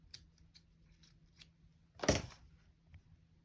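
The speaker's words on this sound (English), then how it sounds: "And I'm just going to cut it." Scissors cut through crochet yarn in one crisp, close snip, with faint handling rustles before and after in a quiet room.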